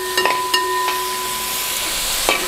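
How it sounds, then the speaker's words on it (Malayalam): Onion, garlic and crushed ginger sizzle in hot oil for a kappa biriyani, a steady frying hiss broken by a few short clinks and stirring scrapes. "ഇതെല്ലാം ഇട്ടിട്ട് നന്നായിട്ടൊന്ന് വഴറ്റാം."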